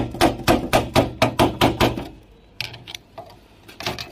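Screwdriver struck repeatedly to knock loose a gas burner part, eight quick, evenly spaced metallic blows, a brief pause, then a few lighter irregular taps.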